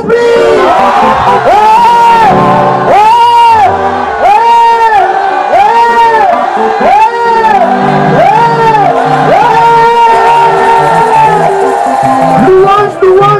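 A church congregation shouts loud, repeated acclamations to God in rhythmic waves of massed voices, sustained and near throughout, with no break in the crowd's chanting.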